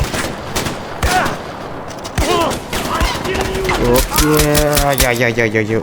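Gunfire in the snowy Far Cry 4 Valley of the Yetis mode crackles in scattered bursts mixed with game effects and animal-like calls, loud and busy, with a voice talking over it at times.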